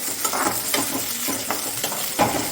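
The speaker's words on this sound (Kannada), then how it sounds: "ಇವಾಗ ಇದನ್ನೆಲ್ಲ ನಾನು ಎಣ್ಣೆಯಲ್ಲೇ ಹುರಿಯೋದಕ್ಕೆ ಹಾಕ್ಕೊಂಡಿದ್ದೀನಿ." Spices frying in hot oil in a home kitchen pan, a steady close sizzle with rhythmic scraping strokes of a stirring utensil about every half second.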